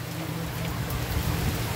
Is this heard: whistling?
no